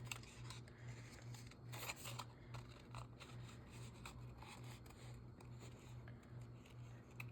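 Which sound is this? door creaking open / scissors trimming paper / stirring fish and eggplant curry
scissors trimming paper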